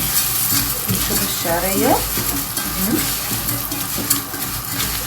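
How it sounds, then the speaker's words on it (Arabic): Onion fries in oil and ghee as it is stirred in the pan, with a steady close sizzle and scraping strokes from the spoon. A voice speaks briefly. "حبه زيت مع السمنه كده. نقلب كده البصلايه"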